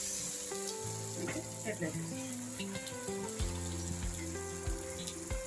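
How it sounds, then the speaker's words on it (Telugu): Jowar millet paratha fries in oil on a pan with a steady, close sizzle and light crackle throughout, while someone speaks over it. "కొద్దిగా ఇట్లా ఆయిల్ వచ్చేస్తాం. కొంచెం పరోటా వేసేస్తాం."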